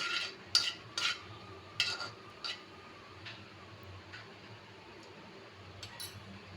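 Cashews and raisins fry in a pan for fried rice, with a few sharp metallic clinks of a spoon stirring early on, then a faint low sizzle and occasional taps.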